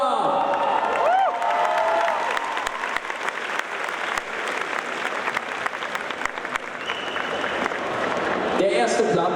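An audience at a gaming prize ceremony claps steadily with scattered cheers, a thick wash of applause lasting the whole stretch while a voice speaks over it at the start.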